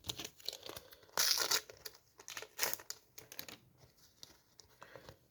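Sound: tearing open a Panini FIFA sticker pack

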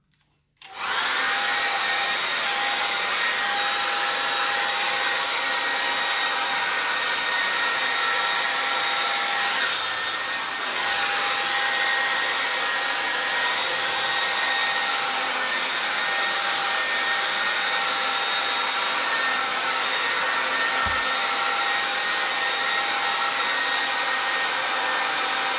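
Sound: hair dryer running

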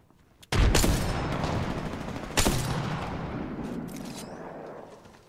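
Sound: gunfire in the Apex Legends video game

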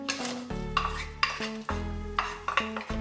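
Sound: onion and garlic sautéing in pot on medium heat

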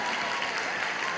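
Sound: audience clapping

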